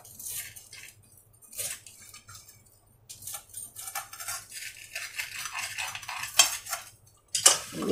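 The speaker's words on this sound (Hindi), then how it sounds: "ये क्रिस्पी ज़रा आवाज़ सुनिएगा" A knife crunches through a crisp toasted cheese sandwich in a few separate cuts, with scraping clinks against a plate between strokes, close and fairly loud.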